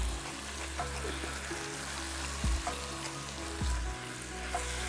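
Chicken for Chettinad curry sears in a hot pan with a steady, close sizzle and a few stirring clatters, no voices.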